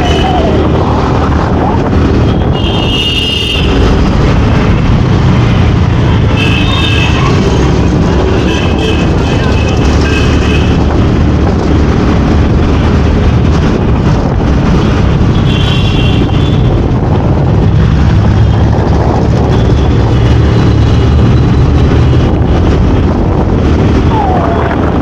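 A scooter rides through Delhi traffic, with loud, constant wind buffeting and engine and road rumble throughout, other vehicles passing nearby and people talking over the noise.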